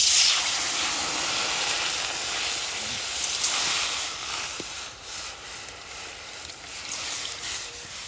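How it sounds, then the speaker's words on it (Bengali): Water poured into a heated wok makes a loud, steady steam hiss that fades slowly over several seconds, close up and with no talk. "এবার আমি এই রকমই বাটি তিন বাটি জল দিয়ে দেবো"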